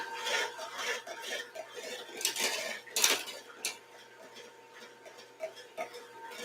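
Electric mixer beating in an aluminum mixing bowl at high speed with a loose spindle, giving a steady close whirring full of irregular metallic clatters and rattles, fairly quiet.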